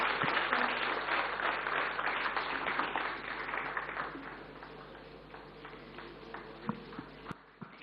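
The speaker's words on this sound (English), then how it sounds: "Ladies and gentlemen, can we have a round of applause, please?" Audience applause for Sachin Tendulkar at the India Today Conclave 2015, a dense wash of clapping that starts full and gradually thins and fades, with a few isolated claps near the end.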